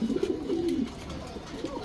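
Pigeons sitting on two eggs give a close, low cooing call in the first half, followed by a fainter coo near the end, with no voices.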